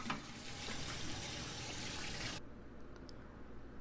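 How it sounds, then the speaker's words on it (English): Tap water running steadily into a sink as hands are washed in a home kitchen, a broad close gush that cuts off abruptly partway through, leaving quieter dripping and handling. "Let me wash my hands."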